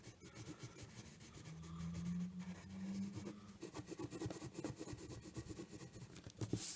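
A pen scribbles and writes a message across paper in a continuous scratchy rubbing, close and fairly loud, with bursts of quick strokes and short pauses.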